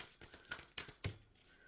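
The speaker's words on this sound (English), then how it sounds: "let's go ahead and shuffle for our Taurus Collective" A deck of tarot cards is shuffled, giving a few quick, soft riffling snaps and flicks close by and faint, ending in a brief slap.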